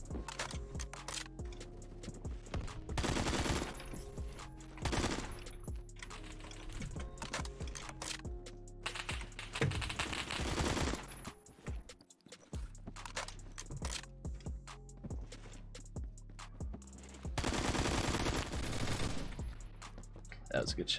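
Rapid bursts of automatic gunfire from Phantom Forces, a first-person shooter game, crackle in dense clusters over a steady hum of game music, with a few loud volleys standing out through the stretch.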